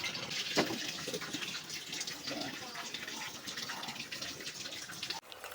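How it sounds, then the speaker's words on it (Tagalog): Water pours steadily in a continuous rushing stream into a pot for boiling pork, like filling a pot from a tap, with faint talking underneath. "Maglagay na tayo ng tubig."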